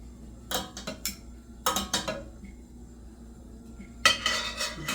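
Utensils clatter against a pot or pan while thick noodles are mixed into sauce, coming in three close bursts of scraping and clinking separated by quiet pauses over a low background hum.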